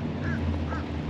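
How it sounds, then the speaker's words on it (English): Ducks quack in a couple of short nasal calls, set against a steady low hum from an afternoon boat cruise; the calls are moderately near and partly masked by the engine drone. "These duckies."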